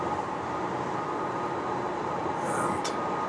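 A train running near Sierra Blanca in west Texas, heard as a steady, even rumble blended with continuous road noise from a moving vehicle, with no distinct horn.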